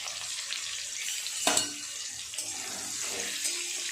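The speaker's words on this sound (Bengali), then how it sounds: "তেল গরম হয়ে গেছে, এক এক করে আলুগুলো দিয়ে দেব।" Potato pieces sizzle in hot oil while a prawn curry is being cooked, a steady close hiss with a few sharper crackles as pieces go into the pan, no voices.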